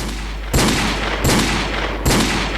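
Paintball gunfire in a roleplay video game: three loud, sharp bursts about a second apart, each ringing out briefly before the next, with no talking.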